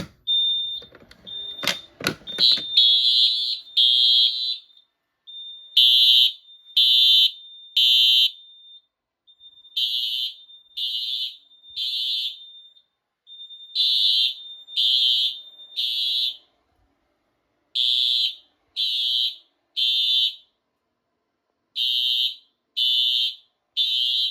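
A shrill Simplex 4100 fire alarm horn, set off from a pull station, sounds in repeated bursts of three beeps with short pauses, following a brief clatter at the start, no talking.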